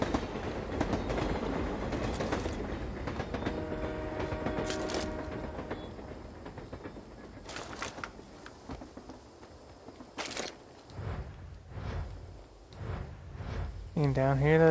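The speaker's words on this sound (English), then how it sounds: "Look at that train go by. Nice choo-choo train." A train rolls past in the video game Sniper: Ghost Warrior 3, a steady rumble with clattering wagons that fades and returns over game ambience, with a few sharper clanks near the end.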